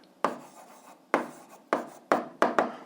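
A pen writing short answers on paper for an algebra exercise, heard as five brief separate scratchy strokes at close range, each quickly fading, with quiet pauses between them.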